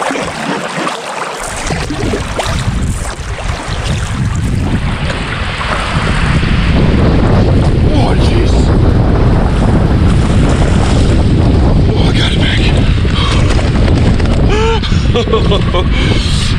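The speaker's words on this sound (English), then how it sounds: "if it's super windy, like it's starting to get actually" Strong wind buffets the microphone outdoors in cold autumn wilderness, a loud continuous roar with gusty rumble that grows heavier after a few seconds.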